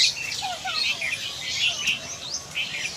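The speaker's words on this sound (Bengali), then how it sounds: "প্রচুর পাখির আওয়াজ পাওয়া যাচ্ছে" Many birds chirping in a Japanese garden in Kolkata on an afternoon, a busy overlapping chorus of high tweets close by with no talking.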